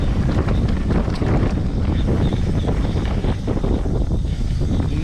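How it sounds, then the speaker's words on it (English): Strong gusts of wind buffet the microphone on a mountain trail, a constant loud roaring rumble with no speech throughout. "Not a fan of that wind."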